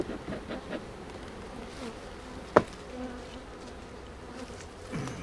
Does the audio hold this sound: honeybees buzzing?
yes